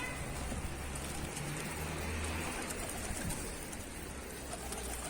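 Mardin pigeons coo on a rooftop after landing, low soft repeated calls over a constant murmur of outdoor background noise.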